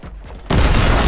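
In the Warhammer 40,000: Inquisitor video game, a sudden loud gunshot bursts out halfway through and rolls into a sustained, booming blast after a quieter, rumbling lead-in.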